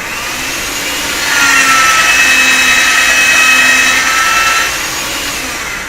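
A strip of clay for Halloween canes fed through a machine gives a steady broadband whirring hum that swells for a few seconds and then eases off, with no talking.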